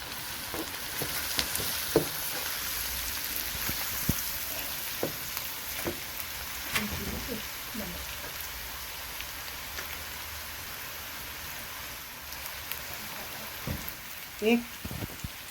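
Cumin seeds browning in hot oil for a mixed vegetable sabzi give a steady, fine crackling sizzle throughout, with scattered pops and a few soft clinks near the end.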